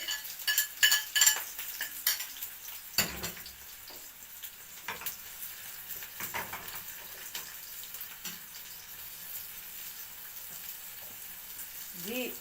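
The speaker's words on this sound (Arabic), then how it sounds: "اول حاجه هعملها انزل بالبصله كده اهي" Onion frying in a pan with ghee for a stuffed pigeon filling gives a gentle, continuous sizzle, broken by utensil scrapes and clinks as it is stirred.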